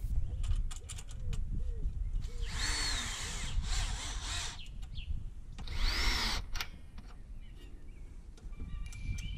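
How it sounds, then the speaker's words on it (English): A cordless screwdriver tightening clamps on a stainless steel chimney flue pipe: two short whirring bursts rising in pitch, with clicks and metallic handling noises around them. "The clamps seem stable and they can be tightened with a cordless screwdriver."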